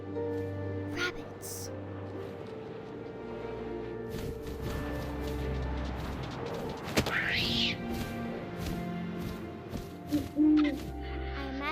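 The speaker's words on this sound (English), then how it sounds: "And suddenly, I was an owl." Owl hoots heard in the first-person video game What Remains of Edith Finch, a soft brief call rising over a low windy ambient bed with scattered thumps and rustles, no speech audible.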